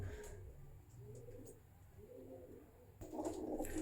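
Teddy pigeons coo softly in low, rolling phrases at close range, with a louder burst of cooing near the end.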